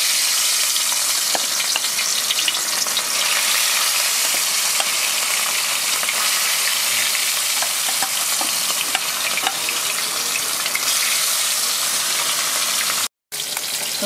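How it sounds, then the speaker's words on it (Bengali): Pieces of katla fish fry in hot oil in a wok, giving a loud, constant sizzle and crackle close up with small pops scattered throughout, then a brief cutoff near the end. "তো মাছগুলো আমি ভেজে নিচ্ছি।"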